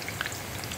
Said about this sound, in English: So I will put everything in the frying pan and saute this